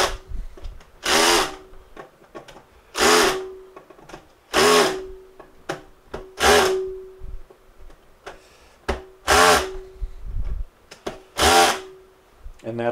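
A power drill whirs in repeated short bursts, about seven of them, each driving a screw into wood to mount a bowl blank, with brief pauses between.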